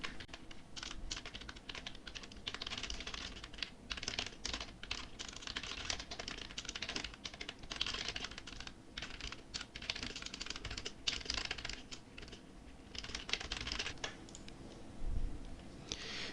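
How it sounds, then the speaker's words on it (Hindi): Rapid, continuous keystrokes on a computer keyboard while typing a document in Microsoft Word, close and fairly quiet, with brief pauses between bursts and no talking. "जो सब्जेक्ट होता है वो हम यहाँ पर टाइप करेंगे"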